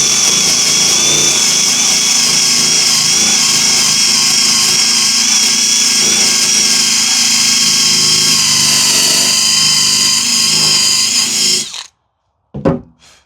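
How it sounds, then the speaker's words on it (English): A Milwaukee-style sanding disc on an angle grinder works on a jon boat. It gives a loud, steady high whine for about twelve seconds, then cuts off abruptly, followed by a brief restart burst. "We also have the Milwaukee like sanding disc on here, this angle grinder."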